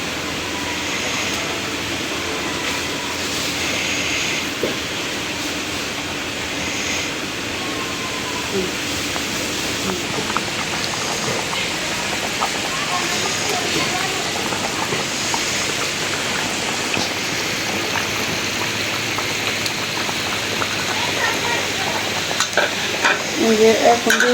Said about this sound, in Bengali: এখন আমি যে মাছ ভাজাগুলি দিয়ে দিচ্ছি